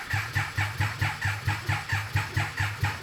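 A Triumph 955cc engine in an abandoned go kart project, leaking fluid, cranks on the starter in a fast even rhythm of about a dozen loud, close chugging strokes without catching.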